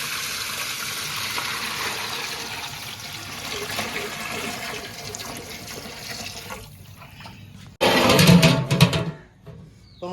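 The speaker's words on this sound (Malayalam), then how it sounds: "നമുക്ക് വെള്ളം ഒഴിച്ചെടുക്കാം." Water is poured into a pot of kuzhimanthi rice in a kitchen, a loud splashing gush near the end that follows a quieter stretch of background noise.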